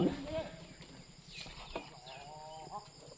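An ox on a rural hill road in Nepal gives a faint, drawn-out lowing call partway through, heard at a distance over quiet outdoor background noise.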